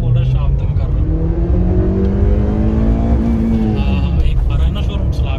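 A Honda Civic sedan accelerates hard in first gear, its engine note climbing steadily in pitch as it revs toward 62. The steady, loud drone is heard from close up, with someone talking over it.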